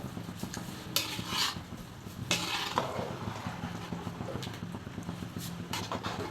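Basmati rice for chicken biryani is gently stirred in a pot, producing intermittent metallic scrapes and clinks of a ladle against the vessel over a low bubbling, fairly quiet background.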